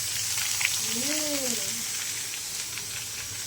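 Okra (bhindi) frying in oil for a home-cooked Gujarati meal, a steady even sizzle throughout, close and moderately loud, with a brief voice sound in the middle.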